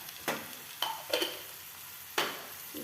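Beetroot frying in oil for a palya, heard faintly and close: a quiet simmering hiss with four separate scraping stirs of a spatula across the pan.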